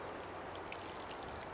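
Water from a watering can pours steadily onto compost in a potato grow bag, a soft continuous trickling stream, faint and close, with no voices.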